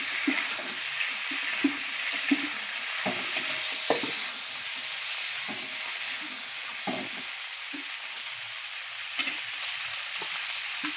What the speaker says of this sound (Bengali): পেঁয়াজ দিয়ে আবারও ভালোভাবে নেড়ে চেড়ে নিচ্ছি।